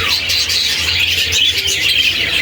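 Pet parakeets chirp in rapid, overlapping high-pitched tweets, close by and fairly loud, with a continuous bright chatter throughout.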